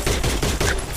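Rapid automatic gunfire sprayed in a shooter video game, a dense unbroken burst of loud shots filling the whole second.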